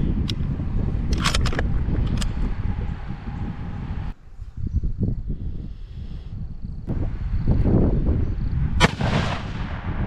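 Rifle shots fired at a target during a headspacing accuracy test, booming reports heard over steady outdoor wind noise, with a short quieter gap midway.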